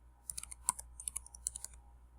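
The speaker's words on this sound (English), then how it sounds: "we'll go ahead and type our name." Typing a name on a computer keyboard to start Minecraft Education, a short run of light, quick key clicks close by, irregularly spaced over about two seconds, with no voices.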